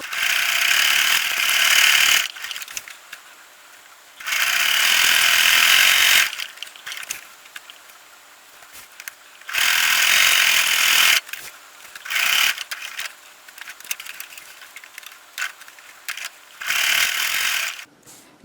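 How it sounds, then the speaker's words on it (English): A sewing machine stitching fabric for a custom jar opener runs in loud, steady bursts of roughly two seconds, separated by short pauses. "we're just going to sew this up, leaving a small space to turn it"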